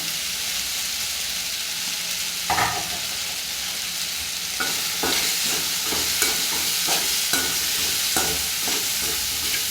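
Plantain poriyal with coconut being stir-fried in a pan: a steady sizzle runs throughout, and irregular scrapes and stirring knocks come through clearly, close up and with no talk.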